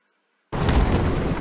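A missile explodes against a supply drop in the video game Fortnite, a sudden loud blast out of silence followed by a sustained rumbling roar.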